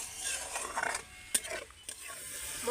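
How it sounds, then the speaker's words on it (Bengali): A spice paste with a splash of water is stirred and fried over a very low flame for bhindi masala. Soft sizzling sits under a few scraping strokes of the spoon and one sharp clink near the middle. "এইভাবে নেড়ে নেড়ে কিছুক্ষণ কষিয়ে নিতে হবে খুব অল্প জালে"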